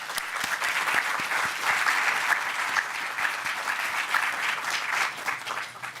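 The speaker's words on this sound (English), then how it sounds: "I would like us to give them another round of applause." Sustained applause from a lecture audience at the Bram Fischer Memorial Lecture, a dense patter of many hands clapping at once, steady and fairly close, with no talking over it.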